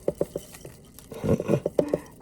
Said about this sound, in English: It's raining oats here on the table.